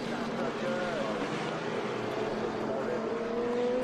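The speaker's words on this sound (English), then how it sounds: "those Eagles sound so good. Those do sound good. Those Ford engines." Eagle race cars with Ford engines roar in a steady, continuous drone during an exhibition at the 2021 Velocity Invitational, heard from a distance, with faint voices underneath.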